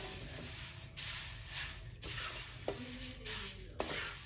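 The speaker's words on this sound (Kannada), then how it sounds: "ಮೊದಲನೇದಾಗಿ ಈ ಥರ ನುಗ್ಗೆ ಸೊಪ್ಪನ್ನು ಹುರ್ಕೋಬೇಕು ಒಂದು ಬಾಣಲೆಯಲ್ಲಿ" Moringa (drumstick) leaves roasting in a pan, giving a steady soft sizzle and hiss with occasional clinks and scrapes of stirring, close and fairly quiet throughout.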